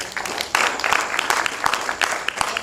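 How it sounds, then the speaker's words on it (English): Applause for a presenter at an international scientific conference: a sustained wash of many hands clapping, with sharper individual claps standing out, moderately loud and continuous throughout. "another round of applause to our presenter"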